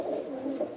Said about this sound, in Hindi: माशाल्लाह बहुत अच्छी अच्छी नस्ल के कबूतर हैं इन्हों को।